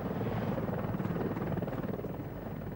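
Mi-24 Hind attack helicopter flying, a steady low rotor thump and engine roar heard alone, fairly distant and even throughout.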